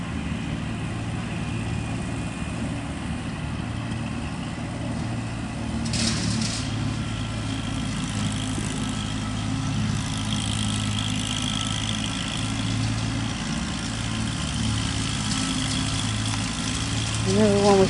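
A 2018 Kubota L2501 tractor engine idling steadily at moderate distance under intermittent outdoor talk, its low rumble swelling slightly near the end.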